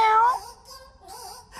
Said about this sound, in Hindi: मेरी बिल्ली।